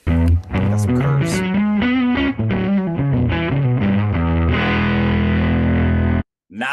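A carved electric guitar with holes through its body, played through heavy distortion: thick, sustained chords and riffs ring continuously for about six seconds, loud and upfront, then cut off abruptly.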